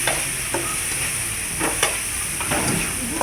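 Eggplant is stirred in a frying pan over a steady hiss of frying, with several distinct scraping strokes from the spoon, close and fairly loud.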